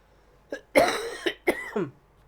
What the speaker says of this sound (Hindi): खांसी बहुत आ रही